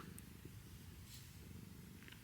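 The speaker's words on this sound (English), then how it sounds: "He's purring." A cat purrs in a steady, continuous low rumble, close but soft, with no other sounds over it.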